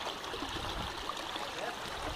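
A shallow, fairly dry creek flows with a soft, steady trickle and no voices.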